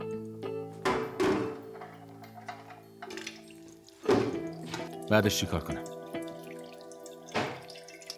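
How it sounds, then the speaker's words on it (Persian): Water is poured into a cooking pot in a kitchen, giving splashing, dripping bursts with hollow knocks of the pot, broken up by people talking. "الان آب بریز توش."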